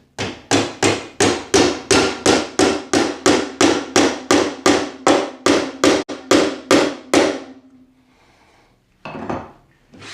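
Nails are hammered into a wooden spice rack, with about twenty rapid, evenly spaced sharp hammer strikes, loud and close, ringing slightly, then stopping, followed by one last muffled knock.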